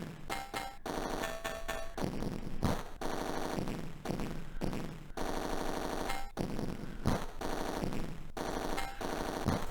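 Rapid automatic fire in the Atari ST rail shooter Roller Coaster Rumbler rattles in dense, loud bursts over busy game sound, pausing briefly between volleys throughout.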